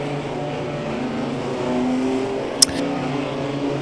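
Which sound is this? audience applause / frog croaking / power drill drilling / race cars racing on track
race cars racing on track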